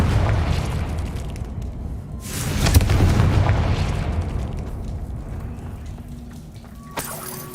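In the game Hogwarts Legacy, a fiery Confringo spell bursts with a deep booming explosion that swells and rumbles for several seconds before fading.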